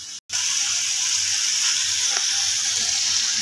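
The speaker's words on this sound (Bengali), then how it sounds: "এবার এটাকে ভালো করে ফুটতে দেবো, একদম শুকনো হয়ে যাবে।" Small fish in mustard sizzle steadily in a pan as a little added water cooks off, a loud, even frying hiss that runs without pause after a brief dropout at the start.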